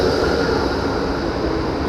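A tram rolls past close by on a city street, giving a steady, loud rumble of wheels and motor that holds evenly throughout with no clear clicks or squeal.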